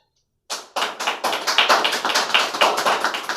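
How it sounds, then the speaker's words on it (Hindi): A crowd welcoming a newly appointed district vice-president of a political party breaks into applause: after a short silence, sharp claps start and settle into a brisk, fairly loud, irregular patter. "तो आप लोग एक बार इनके बनने पर ताली से स्वागत करें।"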